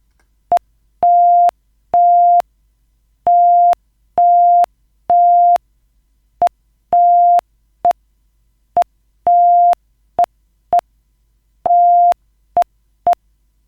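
Morse code beeps generated by a PictoBlox Python program spelling words, a clean steady tone in short dots and longer dashes with silent gaps, loud and alone.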